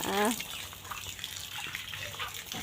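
Water splashes and runs steadily as a car is washed in the rain, with a brief voice at the start and continuous wet spatter throughout.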